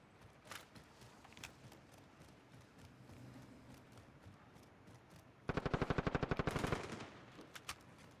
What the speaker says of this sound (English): I'm just shooting just because.